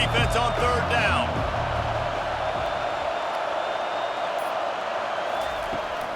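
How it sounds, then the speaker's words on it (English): Stadium crowd in EA College Football 25 roars on a defensive third down, a loud, dense, sustained wall of noise with a few whistles and whoops, under commentary. "Decibels rising as the crowd gets behind this defense on 3rd down."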